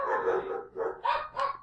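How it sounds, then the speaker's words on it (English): Dogs barking in a short burst of several sharp, fairly close barks with brief gaps between them, heard alone without any talking. "Do they really have to bark at everything?"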